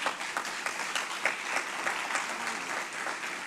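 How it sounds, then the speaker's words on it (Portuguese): A church congregation claps together during a worship service, a lively, continuous round of applause with audible individual hand claps pulsing through the dense wash. "Vamos dar uma salva de palmas ao Senhor"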